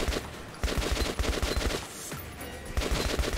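Enemy automatic gunfire rattles in fast, repeated bursts throughout, close and dense with brief gaps, during combat in Metro 2033 Redux on Xbox One.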